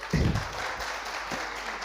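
A studio audience at a cabaret-singers TV show breaks into a short, dense burst of applause that quickly fades into a softer patter.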